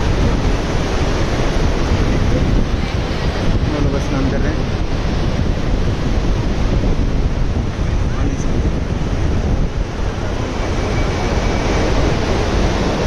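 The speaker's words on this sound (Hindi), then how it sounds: "हवा तेज यहाँ पे इसलिए चल रहा है, वहाँ से दोनों तरफ पहाड़ हैं, बीच में गैप है, इसलिए इतना तेज हवा है।" Strong wind gusting through a gap between two mountains at Manikarn, Himachal Pradesh, buffeting the microphone with a loud, constant rushing roar and no speech.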